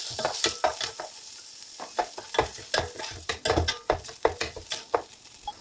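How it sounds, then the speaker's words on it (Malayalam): Washed rice for prawn biryani fries in a pan, a steady sizzle under repeated scraping strokes of a spoon stirring the grains, close and alone without talk. "അരി ഇവിടെ ഫ്രൈ ആയി വന്നിട്ടുണ്ട്."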